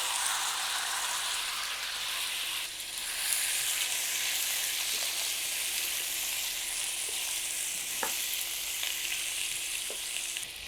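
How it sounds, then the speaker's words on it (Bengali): Chicken pieces frying in hot oil in a home kitchen, giving a steady, close sizzle with a soft bubbling hiss and a few faint clicks and stirs. "এই তেলে চিকেনটা দিয়ে দিচ্ছি।"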